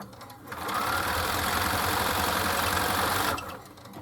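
A sewing machine runs at a steady fast hum, stitching quilt blocks together for a Valentine heart quilt, starting abruptly, whirring continuously for about three seconds, then stopping, close and loud.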